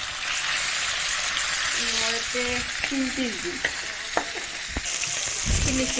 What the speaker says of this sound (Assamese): এতিয়া মাছ দি দিবা দে, তেল গৰম বুলি